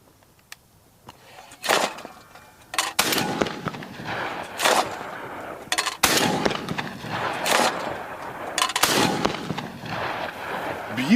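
Shotgun blasts from a Beretta A400 Extreme Unico and a Remington Versa Max semi-automatic, fired outdoors in a series of sharp, loud reports with echoing tails, several shots spaced across the stretch.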